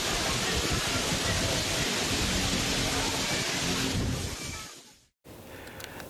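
Heavy rain driven by strong wind in a capital city during a storm, a dense, loud, steady roar of downpour that fades over the last second, cuts out briefly, then returns more faintly.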